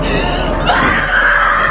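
A woman screams in a horror film, a loud, sustained high cry that rises in pitch partway through and holds over a dense backdrop of film soundtrack.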